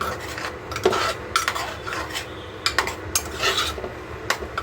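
A spoon scrapes and clinks against a pot while a fried spice mixture is stirred, with repeated metallic knocks and rasping strokes at close range and no talking.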